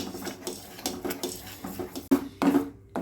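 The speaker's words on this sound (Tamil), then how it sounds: "கைவிடாமல் நம்ம கலக்கிக்கிட்டே இருக்கலாம்" A spoon scrapes and clinks around a pan while an agar agar and milk mixture is stirred, giving quiet rhythmic strokes close by, with a few louder knocks against the pan's side near the end.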